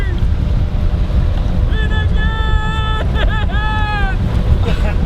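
A big-block, nitrous-fed drag racing boat roars past on the water, its engine whine rising and bending in pitch midway, set against heavy wind and wave noise.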